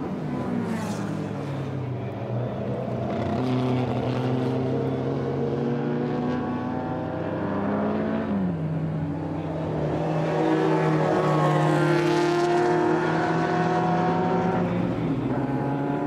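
Race cars battling a Ferrari around the Hungaroring, engines droning continuously with rising and falling pitches as gears change and cars pass, loud and sustained with several engines overlapping.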